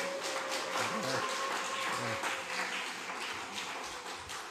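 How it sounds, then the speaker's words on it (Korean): Church congregation applauding during a Sunday worship service to encourage two deacons, a steady wash of many hands clapping that fills the whole stretch at an even level. "우리 성명기 집사님, 우리 박철원 집사님 위해서도 한번 격려의 박수 한번 해드리고요"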